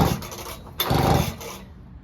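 A two-stroke engine that sat unused for years, fitted with a replaced fuel system, cranks and sputters briefly as it tries to start, two short loud bursts of mechanical noise close by with no talking.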